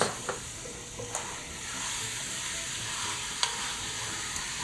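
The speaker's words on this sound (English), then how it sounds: "you can hear it sizzling already" Steady sizzling of food frying in a pot for one-pot chicken parmesan pasta, with a few sharp clinks of a utensil against the metal scattered through.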